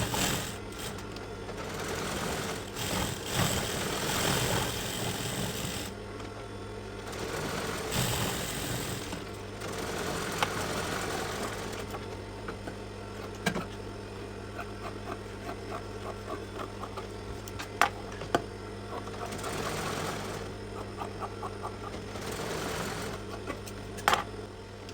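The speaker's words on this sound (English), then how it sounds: "So let's go to the sewing machine." Sewing machine stitching a shirt collar during shirt making, a steady mechanical whirr with bursts of stitching and short pauses, small clicks and taps of handling throughout, no talking.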